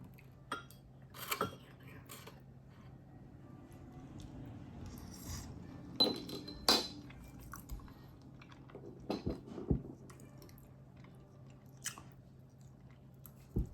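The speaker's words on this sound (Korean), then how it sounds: "두부 먼저 먹어보겠습니다." Tofu being eaten at a restaurant, with quiet soft chewing and a few sharper clicks of cutlery against dishes, sparse and close against a low steady room hum, with no talking.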